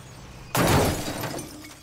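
Glass smashes in GTA 5 roleplay, a sudden loud shatter bursting out of a quiet background and followed by a second of tinkling, scattering shards.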